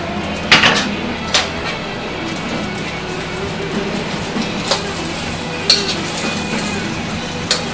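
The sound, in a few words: greens being tossed and cooked in a pan with beef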